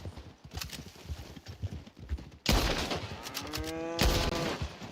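Bolt-action rifle shots ring out in Red Dead Online, two sharp loud reports with ringing tails, following a stretch of quieter clattering.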